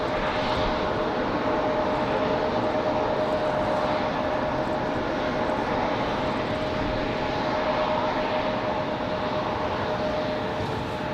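Airliner at Raleigh Durham International Airport, a continuous loud jet engine roar with a steady high whine, sustained and close throughout.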